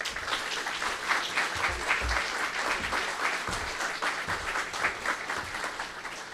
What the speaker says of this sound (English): if you would please give a warm round of applause to Congresswoman Harriet Hagman.